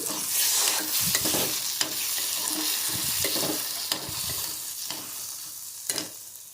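Brain frying in a pan with tomatoes: a loud, close crackle and hiss with wet sputtering and repeated scraping strokes as it is stirred, no talking.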